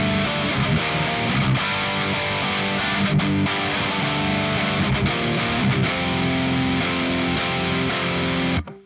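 Electric guitar played through an OCD overdrive in an STL Tonehub preset, thick distorted chords ringing continuously with a few choppy breaks and cutting off abruptly at the end.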